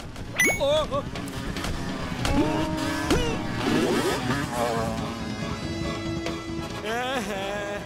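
Cartoon scooter engine buzzing and whining as it drives, rising and falling in pitch amid playful sound effects and music, with animated voices talking over it.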